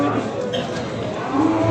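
Female calves lowing at a livestock market in Beylagan, a low moo over a dense bed of crowd chatter and market noise.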